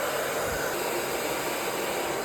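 A hair dryer blows steadily and loudly while short hair is dried with a brush, giving a constant broadband whooshing hiss with a faint motor whine and no break.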